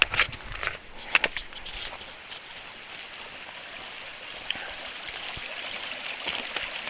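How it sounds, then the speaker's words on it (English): A forest creek on the Ozark Trail runs with a steady soft rushing and trickling, fairly near, with a few footsteps and knocks at the start. "Another creek to cross."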